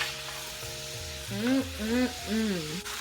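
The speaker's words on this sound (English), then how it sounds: "I'm just gonna saute all of this together" Vegetables with pineapple sauté in a pan for sweet and sour chicken, giving a steady, close sizzle throughout with a melodic, voice-like tone rising over it in the second half.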